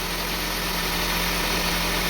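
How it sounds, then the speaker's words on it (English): A Honda CR-V engine with a rough-idle fault runs at high RPM, a steady, loud, unbroken drone with a constant pitch and no audible rise or fall. "See, now the engine is running,"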